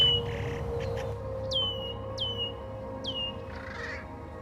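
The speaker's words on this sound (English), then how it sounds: "This blackbird has switched his call from chick to peek as he noticed me." Red-winged blackbird giving three sharp, descending 'peek' alarm calls about half a second apart, loud and near, with softer chip notes at the start and a steady low background hum.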